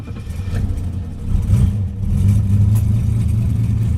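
An old Mercedes-Benz engine with timing being adjusted runs roughly close by, a loud uneven low rumble with clattery, lumpy idle that surges slightly midway.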